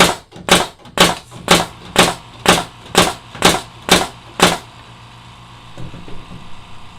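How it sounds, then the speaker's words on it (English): A pneumatic trim nail gun drives nails into a 2x4 with nine sharp, loud, closely spaced snaps in a steady rapid rhythm, then quiet room tone and a faint low compressor hum. "I'm going to be able to shoot a bunch of nails in here without any issue whatsoever"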